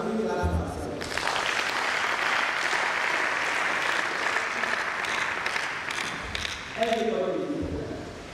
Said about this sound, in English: So can we clap ourselves?